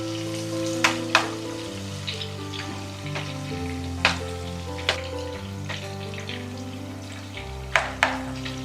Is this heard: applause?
no